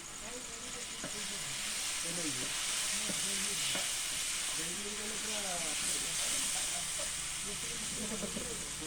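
Ground spices such as garam masala and chili powder sauté in a hot pan with a soft, steady sizzle and occasional stirring, all under a person talking throughout.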